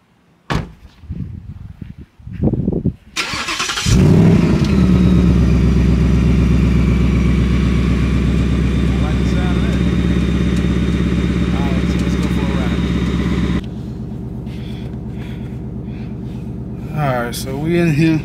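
Ford Mustang 5.0 on a test drive: a door slams and the V8 starts with a loud roar, then settles into a steady, deep idle that drops in level, while people talk near the end.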